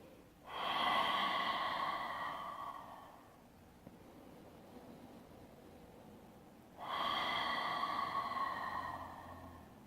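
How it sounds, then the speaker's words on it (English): Two long, breathy "ha" exhalations during yoga child's pose, each lasting a few seconds with a soft airy rush, separated by a quiet pause, close and fairly loud with no talking. "just take a couple more of those ha breaths to release any tension"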